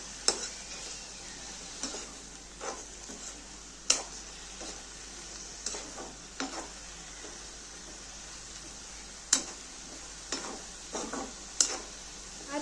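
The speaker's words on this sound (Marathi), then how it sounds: "चांगल्या प्रकारे तेलमध्ये परतून घेऊया" Spinach being sautéed in oil in a pan as palak bhaji cooks: a faint, steady sizzle broken by sharp, scattered scrapes and clinks of a spoon stirring the greens, with no voices.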